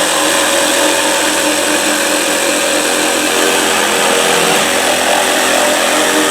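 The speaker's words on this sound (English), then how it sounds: "I'm just sawing off the, just temporarily sawing off these ends here" A loud power saw cutting wood ends whines continuously at close range, a harsh steady buzz with no talking.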